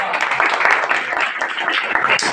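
Dense, continuous applause fills a party membership meeting hall, a loud wash of many hands clapping with a voice faintly mixed in.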